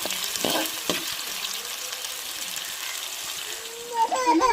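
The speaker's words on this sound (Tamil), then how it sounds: "வெங்காயம் பச்சை மிளகாலாம் எண்ணெயிலே நல்லா வதங்கி வரட்டும்" Onions and green chilies fry in oil in a pan, a steady close sizzle with a few stirring scrapes, and a voice rises briefly near the end.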